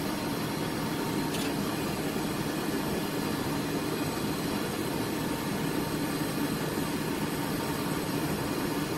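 A walk-in cooler's refrigeration unit running with a steady, low, even hum and mechanical drone, moderately quiet, with no voices over it.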